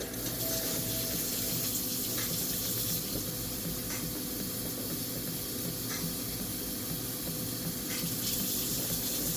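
Water runs steadily from a tap with a constant rushing hiss, close and fairly loud, no voices.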